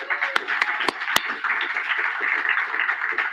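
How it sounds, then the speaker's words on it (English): An audience at a Saturday speaker meeting applauds a speaker, with scattered sharp claps near the start settling into a steady, moderate round of clapping. "Let's give another round of applause for Kyle."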